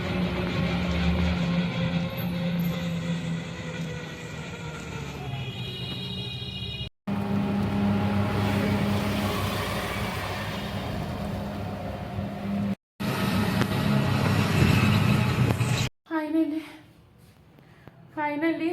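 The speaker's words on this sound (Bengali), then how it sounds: "এখান থেকে আবার টোটোতে বসে আছি, এখান থেকে টোটো ধরে বাড়ি যাব" A ride in a toto, an electric rickshaw, along a road: a steady rumble of road and traffic noise that breaks off abruptly several times and grows quieter near the end.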